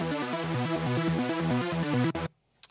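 Serum supersaw synth with all 16 detuned unison voices stacked on both oscillators, playing a loud, wide, rapid repeating arpeggio pattern that cuts off abruptly near the end.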